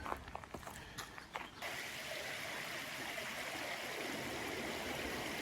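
A creek leading to Kent Lake in Samuel P. Taylor State Park, California, flows steadily with a constant broadband rush of water, close by; a few faint footsteps or knocks at the start before the water fills everything.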